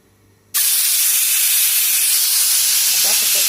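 A pressure cooker in a home kitchen vents steam while aloo methi sabzi is prepared. The sharp, loud hiss bursts in after a quiet half-second and continues steadily to the end.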